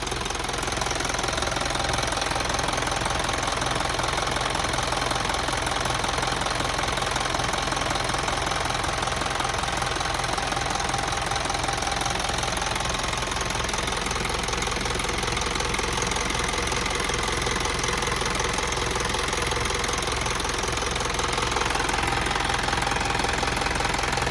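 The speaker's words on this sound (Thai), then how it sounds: "เครื่องนิ่มมาก ไม่ ไม่มีอายเลย" An Isuzu NKR130 truck engine idling with a steady, even diesel rumble and fine rapid knock, loud and close, running continuously without a break.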